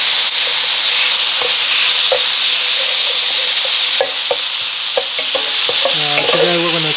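Beef frying in oil in a Sunbeam Duraceramic nonstick electric frypan: a steady, close, loud sizzle with scattered spatula scrapes and clicks, and a busier run of stirring knocks toward the end.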